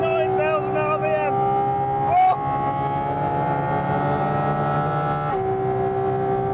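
A Porsche 718 Cayman GT4 RS mid-engined flat-six screaming toward 9,000 RPM in fourth gear on a track, a loud sustained high-pitched wail with a quick shift blip, rising steadily inside the cabin.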